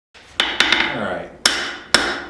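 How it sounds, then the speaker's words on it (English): A cross peen hammer strikes a hot steel knife bolster during forging, five sharp ringing metallic blows, close and loud, with brief decaying ring between strikes. "So let me see what I can do with my cross peen"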